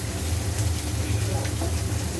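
Fish sizzles and spits as it fries in a pan, a steady, close, crackling hiss with no pauses.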